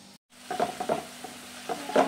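Diamond-shaped pieces of savoury shankarpali dough deep-fry in hot oil, giving a soft continuous bubbling sizzle with a few brief stirring clinks up close, no voices.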